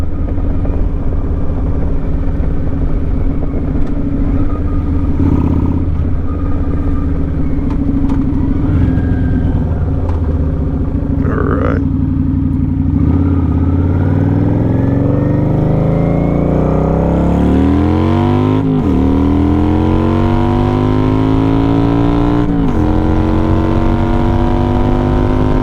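A 2009 Kawasaki Vulcan 900 motorcycle accelerates hard on a closed road, its engine loud and close as the pitch climbs steadily through several gears, each shift marked by a brief dip before the revs rise again, with steady wind roar throughout.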